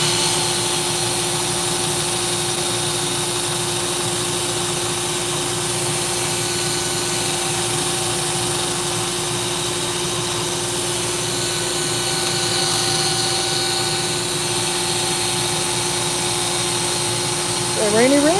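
Power sander working wood in a woodworking shop, a steady continuous whine and hum running the whole time at an even level, with voices talking over it.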